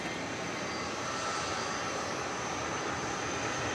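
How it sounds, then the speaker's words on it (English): An MD-11 jet airliner passes near DFW airport at night, a steady broadband engine roar holding level and loud throughout without any voices. "MD-11 is on a trajectory for the east side of the airport, regrettably. It's about to go over the bridge."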